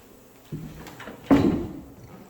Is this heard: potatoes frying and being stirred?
no